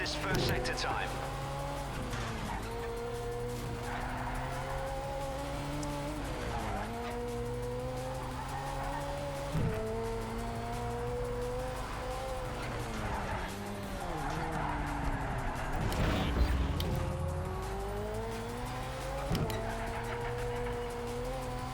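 A McLaren 720S races in the Project Cars 3 driving game. Its engine drones loudly and without a break, rising and falling in pitch with each gear change, and brief tire skids and squeals are heard.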